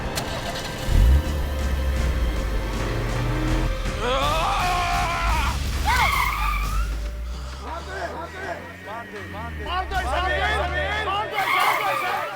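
A car engine rumbles low and steady while it is being started, nearly buried under frantic shouting and screaming voices.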